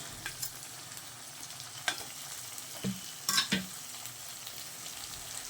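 Onion, garlic and ginger paste fry in a pan, giving a low, soft sizzle broken by several brief scraping stirs and clinks of the spatula. The stirs come in short bursts and sound close, with no talking.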